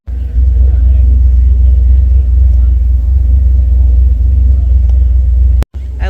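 A big old car rolls in at a car show, its engine giving a steady low rumble that stays loud and even throughout, with a brief sharp click near the end.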